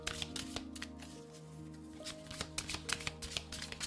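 Tarot cards shuffled close up in a rapid riffling rhythm of crisp papery flutters and taps, quiet and alone over a soft music background.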